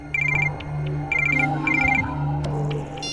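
A telephone rings in repeated short electronic trilling bursts, three clear rings close and fairly loud over a low background hum.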